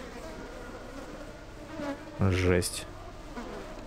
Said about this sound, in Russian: Представляете, это количество мух.